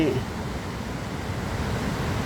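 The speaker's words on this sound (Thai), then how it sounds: "น้ำตกตาดตน น้ำไหลครับ ฤดูน้ำหลาก" Tad Ton waterfall running hard in flood season, a steady dense rushing roar heard close and continuous, with no distinct breaks.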